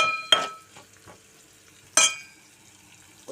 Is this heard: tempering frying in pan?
yes